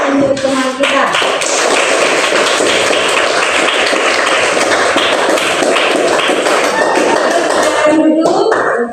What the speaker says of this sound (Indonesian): Kita beri aplaus untuk teman kita